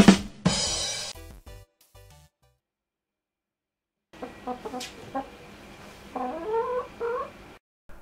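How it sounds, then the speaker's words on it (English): A chicken outside clucks in a series of short, nasal calls rising and falling, moderately close, after a brief burst of other noise and a stretch of near silence. "even the chicken outside wanted to come inside and have a look"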